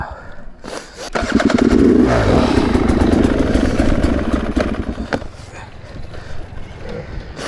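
An enduro dirt bike rides through wet, root-covered terrain at a Romaniacs-style hard enduro event, its engine revving loudly up close for a few seconds with clattering, then dropping back toward a rougher idle.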